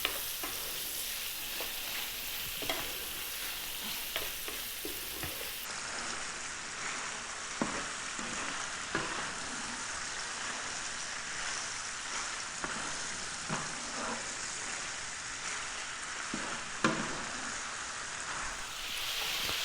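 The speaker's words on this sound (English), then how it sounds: "Medium heat, nothing too crazy. Just going to brown this off." Lamb browns over medium heat in a pan with thyme and a bay leaf, giving a steady, close sizzle with occasional soft clinks and scrapes of stirring; no one speaks.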